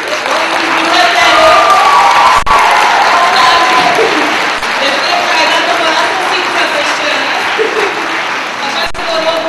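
Sustained applause from an audience at a magazine launch event, a loud dense wash of clapping with faint cheering and voices mixed in, holding steady throughout.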